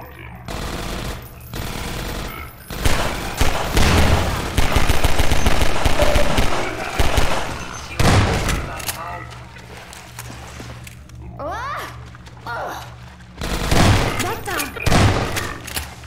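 Loud, rapid machine-gun fire rattles in long bursts with scattered single shots and a booming hit, while voices talk in between, in the video game Half-Life 2: Episode One.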